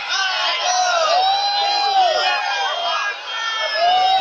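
A crowd at a festa junina with an 18-metre bonfire shouts and whoops together, sustained voices rising and falling at close to mid distance, loud throughout.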